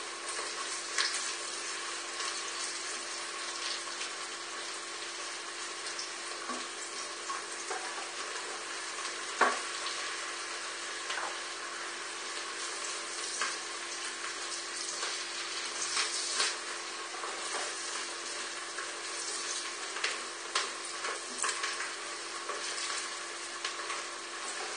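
Diced pork fat (tocino) frying in a pot, a steady, dense sizzle and crackle with a few sharper pops, continuous and fairly close, no voices.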